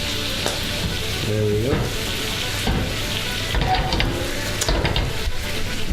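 Hash brown frying in oil in a hot pan, a steady close sizzle running throughout with some stirring and scraping clatter; a voice speaks briefly.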